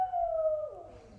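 A dog gives one drawn-out, falling howl-like yelp nearby, fairly loud and alone, fading into low background hum.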